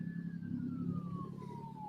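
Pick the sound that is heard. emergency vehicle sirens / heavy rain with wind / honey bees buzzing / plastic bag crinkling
emergency vehicle sirens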